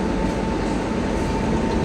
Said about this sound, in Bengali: মানচেশ্বর স্টেশনে আমাদের ট্রেন জাস্ট থেমেছে, বেরিয়ে যাচ্ছে।